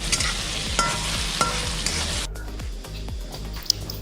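Onion is stirred and roasted in a pan for a curry, with a steady sizzle under repeated rhythmic scraping strokes of a spoon against the pan, close and continuous, and a sharp clink near the end.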